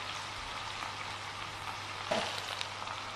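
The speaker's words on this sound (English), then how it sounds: "So we're going to add this now to our pot of onions and garlic." Fresh ginger going into a pot of frying onions and garlic for tikka masala curry: a steady, close sizzle like rain, with a brief louder crackle partway through.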